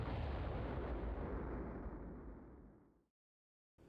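A spaceship blows up in the PlayStation game Colony Wars demo, a loud rumbling explosion that slowly fades over about three seconds into silence before another sound begins.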